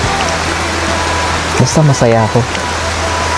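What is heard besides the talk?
rain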